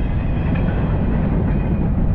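Norfolk Southern freight train led by a single ET44AC locomotive rolls past at dawn, a loud, close, continuous rumble of wheels and railcars with faint clatter.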